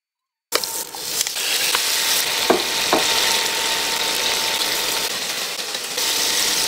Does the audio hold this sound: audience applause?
no